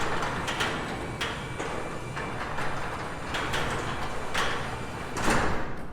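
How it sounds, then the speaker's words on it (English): A Genie garage door opener runs the door down to its closed position, giving a steady mechanical rumbling drone with faint periodic rattles and clicks, ending in a slightly louder clunk. "we hold down the minus arrow until our door gets in the down position"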